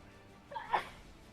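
A single quick, faint sneeze, brief and airy, over a quiet background.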